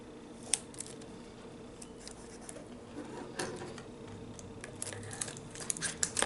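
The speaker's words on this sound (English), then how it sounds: "I do not have the sharpest scissors" Scissors with dull blades cutting material for a balloon-powered toy racer, with soft, scattered snips and rustles that grow a little busier near the end.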